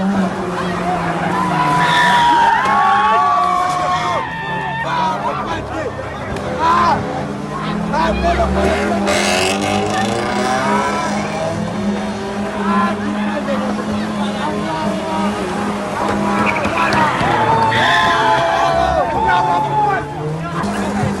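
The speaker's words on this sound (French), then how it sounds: "ces jeux rodéo et de drift dans nos établissements" At a school fair rodeo and drift show in Niamey, car engines rev and tires squeal in long skids, rising and falling over a noisy crowd's chatter and cheers.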